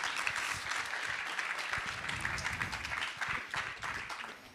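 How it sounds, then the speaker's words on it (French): Audience applause for the jury members at a student thesis-presentation contest, a steady, moderately loud wash of many hands clapping that lasts throughout without a break. "On peut les applaudir."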